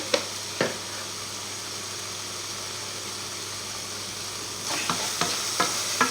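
A utensil stirs a three-cheese soufflé mixture seasoned with salt, pepper and herbs, two scrapes at the start, then a cluster of quicker strokes later, over a steady low hum.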